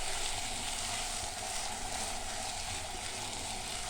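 Duck sautéing in a pan produces a steady, close sizzle with a bright hiss. It holds even throughout with no voices.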